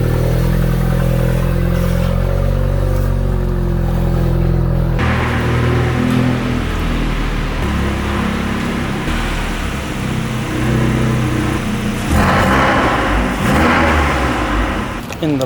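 A Volkswagen Golf R/GTI engine idles and revs steadily as the car is driven inside, a loud continuous mid-pitched hum with a shift in tone partway through and some clatter near the end.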